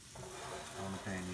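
Buttered bread with cheese laid into a hot pan on a cooktop, giving a quiet, brief steady sizzle with a faint hum beneath.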